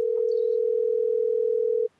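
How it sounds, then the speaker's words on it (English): A steady, loud telephone tone heard during a radio interview show, one unbroken electronic note lasting nearly two seconds before cutting off abruptly, with a faint brief chirp near the start and no talk. "Oh, the phone is ringing, folks."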